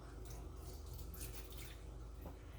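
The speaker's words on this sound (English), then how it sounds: "I'm going to add just a tad bit of water, just a little." A faint splash and trickle of water poured briefly over carrots in a container, soft and close, with a quiet background hum.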